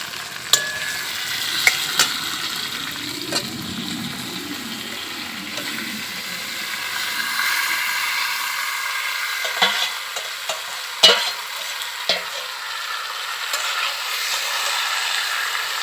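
Marinated country chicken pieces frying in a pan over fried onions, with a steady close sizzle and hiss and a few sharp clinks of a spatula or ladle stirring.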